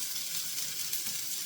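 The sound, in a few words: frozen potatoes sizzling in oil in a pan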